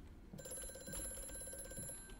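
An old-style telephone bell rings repeatedly in the horror video game Amnesia: A Machine For Pigs, a rapid metallic trill that starts abruptly and continues steadily at low volume.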